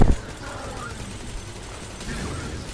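Gunfire in the Destiny 2 beta, a few shots with a sharp burst at the start followed by a steady mechanical background, loud and close with no talking.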